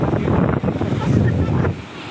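Rough sea waves on the Malvan shore surge and wash continuously, close and loud, with wind noise buffeting the microphone throughout.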